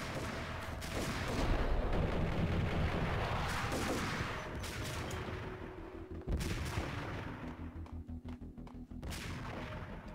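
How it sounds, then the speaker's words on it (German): Sniper and assault rifle gunfire in Max Payne: repeated loud rifle shots and rapid bursts echo, trailing into a fast rattling string of automatic fire toward the end. "Ja, das klingt wie ein Sturmgewehr."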